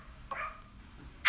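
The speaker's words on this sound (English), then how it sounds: "Stop barking, neighbors' dogs!" A neighbors' dog barks once, faint and distant, a single short bark in an otherwise quiet room, with a louder sound cutting in at the very end.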